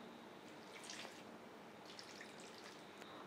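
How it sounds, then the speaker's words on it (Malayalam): Water is poured into a pan of cut ripe plantain, heard as a faint, steady trickle and splash for a few seconds, close by and quiet, with no talking. "ഇതിലോട്ട് കുറച്ച് വെള്ളം ഒഴിച്ചു കൊടുക്കാം"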